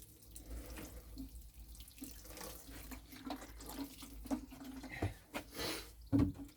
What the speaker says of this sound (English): I like to give it a good water.